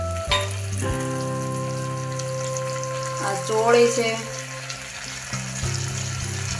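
Ginger and green chili sauté in oil in a pan, a moderate sizzle with a few scraping stirs, while a person talks over it much of the time.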